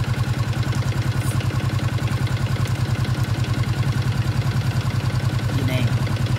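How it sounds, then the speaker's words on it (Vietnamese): A Yamaha Exciter motorcycle engine starts and runs at a steady idle with a fast, even low-pitched throb, loud and close, under a workshop check of the charging system after a wrong charger was fitted. "Khi gắn cọc bình thì bây giờ mình sẽ đề cho nổ máy xe."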